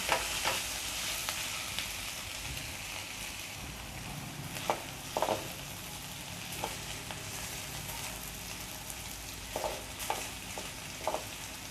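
Bottle gourd skin stir-fry sizzles steadily in a pan, a constant close hiss broken by a few scattered scrapes and taps of stirring, with no talking.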